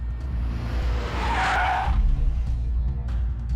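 A car brakes hard and skids to a stop, a loud tire screech swelling and fading over a steady engine rumble.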